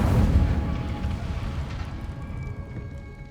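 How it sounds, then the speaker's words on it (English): Incendio fire spell cast in the Hogwarts Legacy video game: a heavy, booming burst of flame that hits hard at once, then rumbles and crackles as it fades over a few seconds. "Incendio. Setting things ablaze is certainly cathartic"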